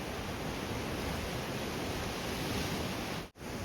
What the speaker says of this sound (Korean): 다시 파도 소리를 들으면서 산책로를 걸어갑니다.